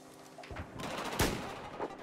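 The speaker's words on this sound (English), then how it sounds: "I'm just trying to snipe these guys" Sniper rifle fire in Battlefield 4, the video game: faint distant gunshots crack out at intervals, with one sharper report standing out midway among softer battlefield noise.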